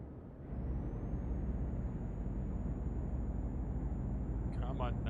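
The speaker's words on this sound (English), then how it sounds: "It's like you're sitting in a tunnel the entire time. That's how great this truck sounds." Truck engine in Euro Truck Simulator 2 droning steadily and close, a dense low rumble with a thin high whine running throughout, joined by a brief burst of higher sound near the end.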